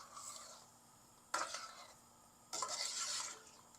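A spoon stirs Vietnamese chicken curry in a pot after 1.5 liters of water goes in, giving a soft wet scraping with two louder, sharper stirring strokes over a low simmering hiss.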